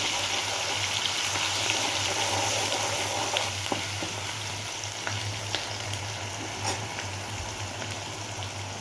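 A masala paste of coriander seeds, cumin, garlic, tomato and small onions fries in a pan for fish curry, with a steady, close, dense sizzle and occasional light pops throughout, with no talk.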